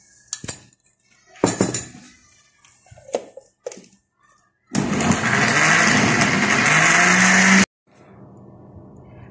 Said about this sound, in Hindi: अब इसको अच्छी तरह मिक्स करके थोड़ी देर के लिए हम दोबारा इसको ब्लेंडर को चलाएंगे।